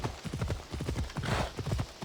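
Horse hooves clip-clopping in Assassin's Creed Odyssey, a steady brisk trotting rhythm of close, punchy hoofbeats, continuous throughout.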